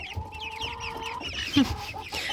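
Chinese silkie chickens and roosters cluck softly and steadily close by, with a few sharper calls rising over the flock.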